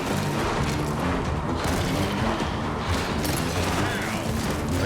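Dense video game gunfire, a continuous loud barrage of overlapping shots and booms with crashing impacts and no break.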